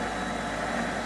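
A machine runs steadily at about 450 revs during the repair of a rubber prosthetic foot suspension, giving a continuous close mechanical hum and whir with no breaks.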